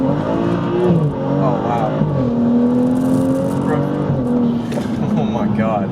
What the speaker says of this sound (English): we're gonna do another first gear rip from 20